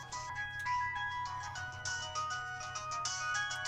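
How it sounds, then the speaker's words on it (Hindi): A phone ringing with an incoming call, playing a bright, repeating electronic melody at moderate volume with no talk over it. "फ़ोन कौन कर रहा है अभी?"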